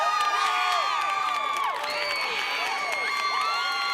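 A packed stand of fans at a 2006 Class 9AA high school football championship, on their feet late in the fourth quarter, roars steadily, with loud sustained cheering, whoops and high shouts layered throughout.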